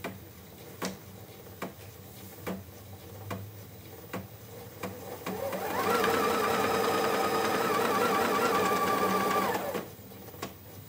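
Computerized embroidery sewing machine stitching a CutWork pattern on a tote bag: a few soft mechanical ticks, then a steady, loud, fast needle hum for several seconds that stops abruptly, with no talking.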